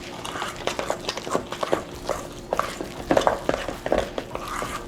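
Thick protein waffle batter for apple cinnamon waffles being stirred in a bowl, giving irregular wet scraping and clicking strokes close by, with some background voice.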